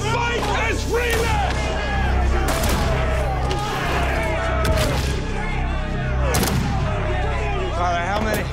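Gunfire in a staged reenactment of the 1859 Harpers Ferry raid, with several loud sharp shots cracking over continuous shouting and raised voices, in a busy, noisy scene.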